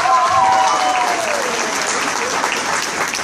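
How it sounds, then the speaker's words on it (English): An audience at a 16th birthday celebration breaks into loud, dense applause that holds steady throughout, with faint voices mixed in. "So I need you all to give them a round of applause right now."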